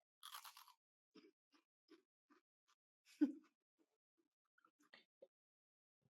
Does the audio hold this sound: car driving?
no